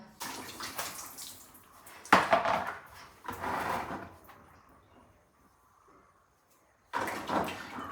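Mangoes being washed in water: splashing and sloshing bursts that come and go, close and moderately loud, with quiet gaps between.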